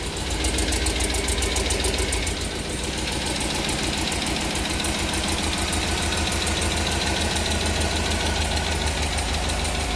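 A cammed Chevrolet Tahoe engine idles steadily and loudly up close, its new lifters ticking in a fast, even clatter throughout with a continuous low rumble underneath.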